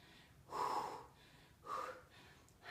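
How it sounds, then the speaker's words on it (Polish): Two loud, breathy exhalations through the mouth during a workout, close up, with a short pause between them and a third breath just beginning at the end. "I oddychaj głośno. Ustami."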